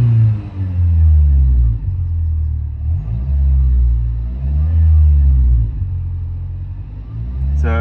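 A car engine running on hydrogen gas under a stock ECU hums with a steady, loud low rumble, its revs dipping and rising gently several times throughout.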